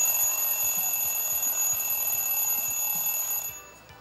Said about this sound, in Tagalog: Alarm. Alarm clock.